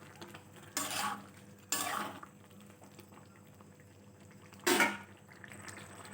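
Parboiled lentils and turmeric stirred in a pot for bhuna khichuri: three separate bursts of scraping and clinking, the last the loudest, with a quiet simmer between them and no voices.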